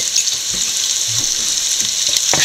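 Sliced onions sautéing in a pan for a jackfruit-seed stir-fry, a steady close sizzle with occasional soft stirring scrapes and no talking.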